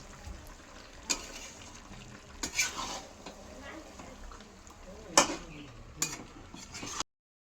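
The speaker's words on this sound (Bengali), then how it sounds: "এই যেখানে মাংস কষছে, আজকে কষা মাংসই হবে, আজকে ঝোল হবে না।" Meat being stirred and fried in a pan for kosha mangsho, a steady close sizzle with intermittent clinks and scrapes of a utensil against the pan.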